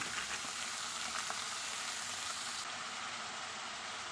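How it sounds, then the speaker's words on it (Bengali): Cabbage, eggplant and potatoes sizzle with ginger and garlic in a hot pan, giving a steady, close, dense frying hiss that carries on without a break. "এখন দিচ্ছি বাঁধাকপি। আর একই সঙ্গে বেগুন আর আলুগুলোকেও দিয়ে দেব।"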